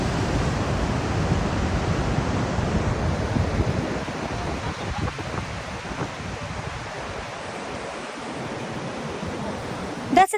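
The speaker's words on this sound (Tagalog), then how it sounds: "Paparinig ko na sa inyo yung dagat." Sea waves wash onto the shore near a lighthouse in Davao Oriental, a continuous broad roar of surf and wind with no speech. It is loud at first and softens a little toward the end.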